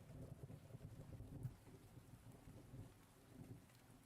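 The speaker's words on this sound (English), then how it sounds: "let me start the rain again" Steady rain sound effect with low rumbling thunder running throughout, dense and continuous, with a slightly louder thunder swell near the middle; no voices.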